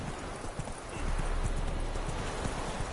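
Roach, the horse from The Witcher 3, clip-clops along in a rapid, even patter of hooves that grows a little louder after the first second.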